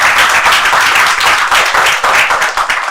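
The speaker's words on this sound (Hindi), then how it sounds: "उनके लिए पहले जोरदार ताली" A large crowd of around two hundred people at a hotel event claps loudly and close in a dense, continuous round of applause that carries on without any talk.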